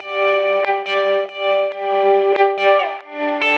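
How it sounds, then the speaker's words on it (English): A clean electric guitar plays a slow sequence of sustained chords, each note blooming into a long, washed-out reverb tail that blurs into the next. "really simple guitar patch that's just going through a ton of reverb"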